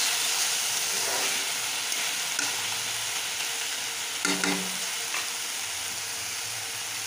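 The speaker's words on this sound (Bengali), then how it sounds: "শাকটা প্রায় হয়ে এসছে, আর একটু ভাজা ভাজা হলেই নামিয়ে দেবো।" Dheki shak greens frying with garlic and potato in a pan, a steady close sizzle with occasional scraping stirs and spatula knocks, no voices.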